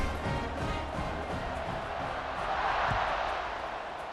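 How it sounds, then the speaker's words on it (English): A football stadium crowd keeps up a broad, steady roar after a score, a dense wash of distant voices with a slight swell in the middle and no clear individual talk. "this crowd is buzzing after that last score"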